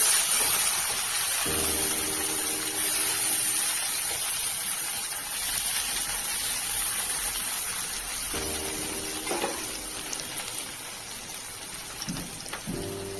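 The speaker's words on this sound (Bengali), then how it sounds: "টমেটো দিয়ে আবারও একটু নেড়ে চেড়ে নিচ্ছি যাতে টমেটোটা নরম হয়ে আসে" Tomato frying with potatoes in a pan for a prawn curry, a constant bright sizzle broken by a few louder stirring scrapes, close and without speech.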